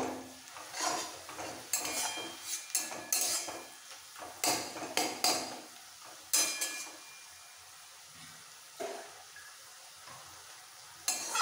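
Water spinach with salt and turmeric is stirred in a frying pan, a spatula clattering and scraping against the metal in irregular bursts over a faint sizzle, with quieter pauses between strokes.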